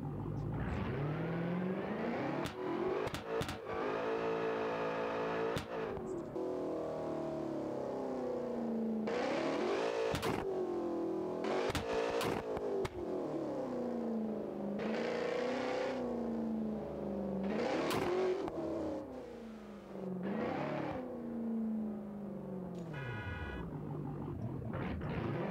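A 2023 BMW X6M V2 mod driving in BeamNG.Drive, its engine revving up and down through repeated accelerations and gear changes, loud and close throughout with no talk.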